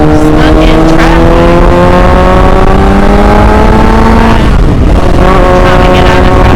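Road traffic heard around a Suzuki GSX-R 600 motorcycle: a steady, loud wash of engine drone with layered harmonic tones from nearby vehicles and a brief dip and surge, with talk over it.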